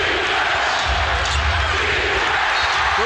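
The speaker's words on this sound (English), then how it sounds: "Listen to this crowd." A packed basketball arena crowd roars loudly and continuously at a Wizards vs Pacers double-overtime game, with a ball bouncing on the court beneath the din.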